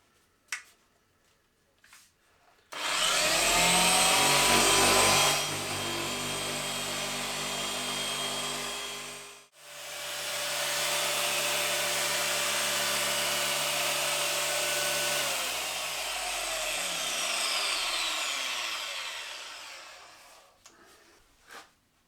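Power drill spinning a polishing pad from a Meguiar's headlight restoration kit against a car headlight lens: a loud, continuous whirring drone for about seven seconds, a brief stop, then another long, steady whir that slows as it ends.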